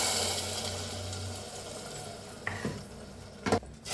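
A spoon scrapes and stirs through sizzling masala frying in oil in a pan, steady frying hiss with a couple of clinks near the end.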